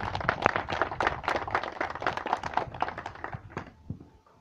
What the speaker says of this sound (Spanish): Necesito con fuertes palmas, por favor.